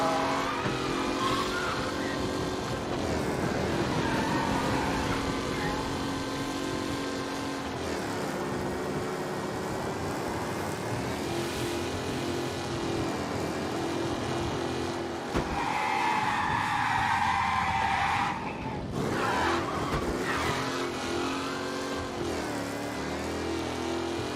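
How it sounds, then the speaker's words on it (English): A race car roars at sustained high revs through city streets in Mafia Definitive Edition, engine loud and continuous with tire squeal and skidding midway. "Race car breaking the limit through the city."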